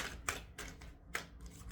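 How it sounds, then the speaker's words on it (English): A deck of tarot cards being shuffled up close, a few quick riffling bursts and soft card slaps, quiet and without talking. "Last shuffle, and then I'm going to open the deck."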